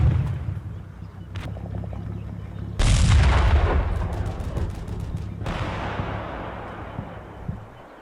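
Artillery fire in the Combat Mission Cold War video game: a single loud booming shot cracks out midway, with rolling rumble and a few faint distant reports trailing off.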